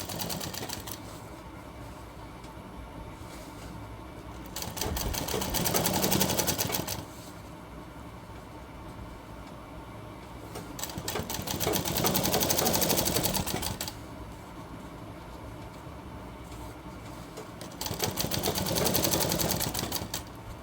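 A sewing machine stitches a shirt hem in three separate runs of a couple of seconds each, with quieter room noise between them.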